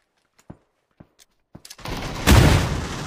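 Sparse single gunshots in PUBG, then a loud grenade explosion with dense rumbling gunfire and debris trailing after it, close and dominant.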